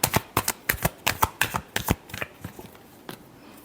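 Tarot cards being shuffled by hand, a rapid run of crisp riffling bursts that quickens, then gives way to softer, sparser card slaps and sliding, close and clear with no talk.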